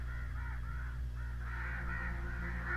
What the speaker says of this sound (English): Shut the fuck up, birds.